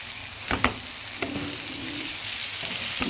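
Boiled eggs go into a frying pan with capsicum, setting off a steady sizzle with a few sharp spatter bursts and clicks from stirring, close and fairly quiet, without any voices.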